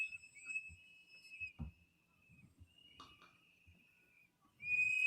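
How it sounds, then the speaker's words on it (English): Shrill whistles blow in played-back footage from a scene around an ICE shooting in Minneapolis. Long, sustained blasts overlap and fade, then a sharp new blast cuts in at the end, over faint thumps and background noise. "I can't stand the damn whistles"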